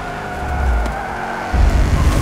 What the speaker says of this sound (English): Backfire, I like that, okay.